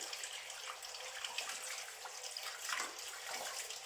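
Running tap water streams steadily over homemade salted fish (fesikh) being rinsed, a soft continuous splashing hiss with small shifts as the fish moves under the flow.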